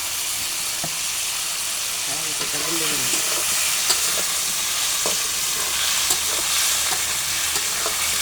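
Spices frying in hot oil in a home kitchen, a steady close sizzle with occasional stirring scrapes, while a voice hums and talks faintly over the crackle.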